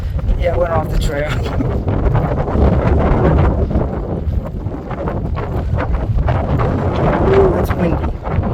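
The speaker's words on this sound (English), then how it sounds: "Ooh, it's windy" Strong gusty wind buffets the microphone on the Makapu'u Lighthouse coastal hiking trail, a loud continuous roar that runs the whole time, with people talking over it in places.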